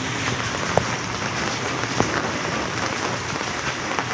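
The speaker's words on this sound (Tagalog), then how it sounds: "maulan na gabi" Steady rain pours down, a dense continuous hiss with occasional louder drops pattering close by.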